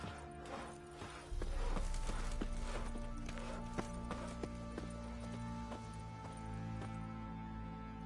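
Horse hooves clip-clop at a steady walking rhythm in The Witcher 3 video game, close and clear over a low ambient hum, with regular sharp strikes continuing throughout.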